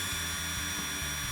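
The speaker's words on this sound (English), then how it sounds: "drill a hole through the long leg" An electric drill fitted with a 3/16 inch bit bores a hole through the long leg of a kitchen cabinet recipe holder, giving a steady, close whine with a pulsing low hum.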